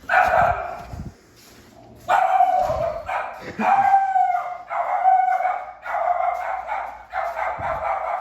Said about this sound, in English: there's a dog in here that's gonna bark like crazy